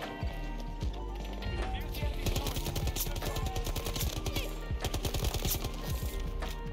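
SMG gunfire in the video game Battlefield 2042 comes as dense, rapid bursts of sharp shots that crack over several seconds, fairly quiet overall.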